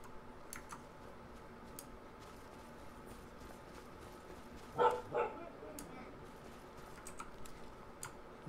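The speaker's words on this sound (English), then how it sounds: "probably just heard a puppy in the background." A puppy barks twice in the background, faint and fairly far off, under computer keyboard clicking and quiet game ambience while gameplay continues.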